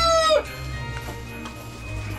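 A rooster's crow ends abruptly near the start, followed by low, steady farmyard rumble with faint background noise.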